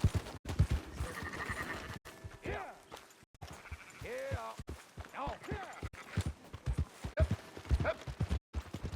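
Sheep bleat in Red Dead Redemption 2 among clip-clopping horse hooves, several wavering calls scattered through busy game sounds with someone talking over them.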